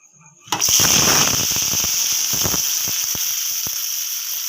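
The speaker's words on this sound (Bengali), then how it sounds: "এই তেলের মধ্যে আমি আলুগুলো ভেজে নেব।" Potatoes hit hot oil with a sudden loud sizzle that settles into a steady crackling hiss, with scattered sharp pops continuing close up.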